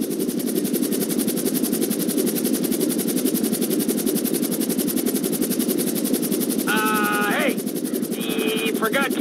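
In GTA 5, a helicopter hovers with a loud, constant rotor thump and engine roar filling the whole stretch, with a couple of brief chirping sounds near the end.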